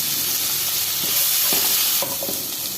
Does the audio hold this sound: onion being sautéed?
yes